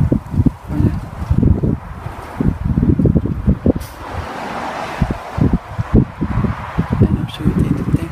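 Strong mistral gusts roar and buffet the microphone at Montoison, surging and easing in uneven bursts with no voices.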